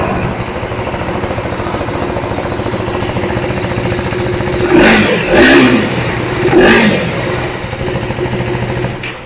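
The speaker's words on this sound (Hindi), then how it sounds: "So guys, this is how the engine sounds." A 2025 KTM Adventure 390 S motorcycle engine runs close by with a gruff, grunty exhaust note, idling steadily before two quick revs swell and drop back to idle.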